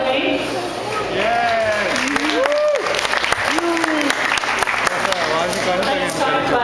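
Wedding guests break into loud, steady applause that fills the room, with a voice talking over the clapping throughout.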